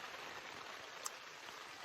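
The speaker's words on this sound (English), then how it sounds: "So it's been raining the past 12 hours" Steady, even hiss of rain falling continuously in the backcountry, with a faint single drip or tap partway through; no voices.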